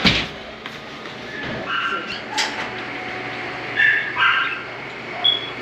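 A small fuzzy dog yipping and barking in several short, high bursts at irregular intervals, fairly close, with some background rustle between barks, at Playa de Mar Chiquita, Puerto Rico.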